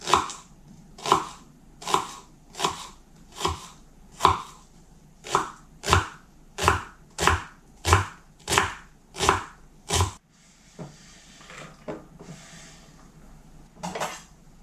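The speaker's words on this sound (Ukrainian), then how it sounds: "Цибульку нарізаю просто на невеличкий кубик." Steady, rhythmic knife chopping of an onion into small cubes on a board, about a dozen sharp strokes, followed by softer scraping and a few quieter cuts.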